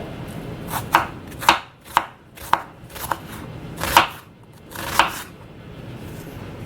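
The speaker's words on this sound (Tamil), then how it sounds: "வெங்காயத்தை ஈஸியாக நம்ம கட் பண்ண முடியும்" A knife slices an onion thinly on a cutting board, giving about eight sharp, separate chops in an uneven rhythm. Each cut is close and crisp, with quiet pauses between strokes and no voices.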